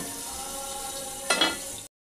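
Bitter gourd frying in oil in a pan with a light sprinkle of salt, giving a steady close sizzle with a brief crackling burst near the end before it cuts off.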